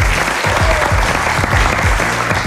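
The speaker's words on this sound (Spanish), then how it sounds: "Pero nosotros queremos recibirlos con este gran aplauso." Studio audience applause on a business television show, dense and loud continuous clapping filling the whole short stretch.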